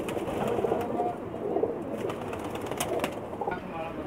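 Pigeons cooing softly in a low, rolling murmur, with light flutters and scattered bird sounds around them, fairly close and continuous.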